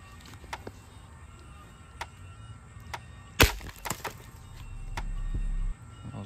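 A BB gun shot shatters a water-filled glass salsa bottle, a single sharp crack followed by a brief burst of breaking glass and splashing water, with scattered faint clicks around it.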